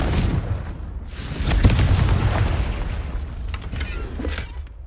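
Confringo, the fire-blast spell in the Hogwarts Legacy video game, goes off as a broad rumbling blast that swells near the middle and fades into a noisy, crackling tail.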